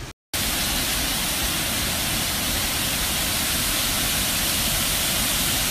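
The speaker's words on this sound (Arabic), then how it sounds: "شلالات مارتن برود في البوسنة" Martin Brod waterfalls in Bosnia pour out a steady, dense rush of water that starts abruptly after a short silence and stays loud and unbroken to the end.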